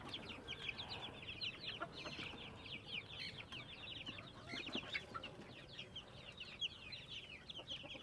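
Many small chickens cheep and cluck busily together, a continuous faint chatter of chirps with soft pecking and shuffling underneath.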